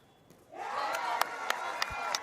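A crowd of children cheering at a World Pickleball League match between Chennai and Bengaluru, a sustained high-pitched roar of shouts that swells in suddenly and carries on, with a few sharp whoops poking through from a moderate distance.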